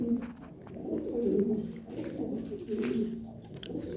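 Pigeons in a loft cooing in soft, repeated throaty phrases, close and fairly quiet, with several birds overlapping and no talking.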